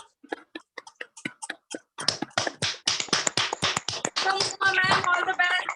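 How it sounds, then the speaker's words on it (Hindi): An audience at a product presentation in Jaipur claps, first in scattered sparse claps, then building into fuller rhythmic applause that grows denser and louder toward the end. "तालियों की कमी नहीं होनी चाहिए बिल्कुल भी।"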